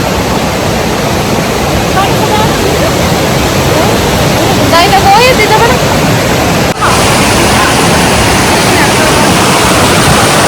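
Lauke Waterfall in Nuwakot, Nepal roars as a loud, steady rush of falling water, close and continuous throughout, with voices speaking faintly over it.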